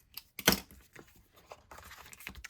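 Paper scraps being cut to size for a scrapbook page: a sharp snip-and-tear burst near the start, followed by quieter rustling and crinkling of the paper, close and fairly soft.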